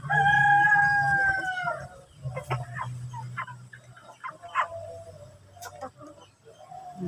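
A Rhode Island Red rooster lets out one loud, near crow, then scattered clucks and short calls from the chickens follow at irregular intervals.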